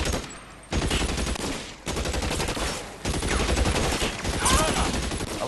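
Dense gunfire in a video game, loud overlapping shots and crackling bursts that cut in and out in three abrupt blocks, layered over a busy game soundtrack.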